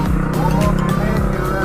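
Loud, rattling motor tricycle engine droning close by as it passes along a street, a steady buzzing roar filling the whole moment with no voices over it.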